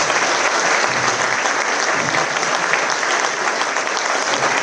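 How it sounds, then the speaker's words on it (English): Steady, dense applause from an audience at a charity concert by flute bands, sustained at an even level throughout with no voices standing out. "I think he deserves a bit of a round of applause."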